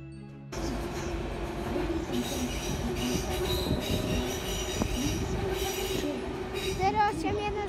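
A train departs Berlin Hauptbahnhof station, with a loud, steady rumble of rolling wagons, wheels squealing and clicking over the rails, and faint voices in the background.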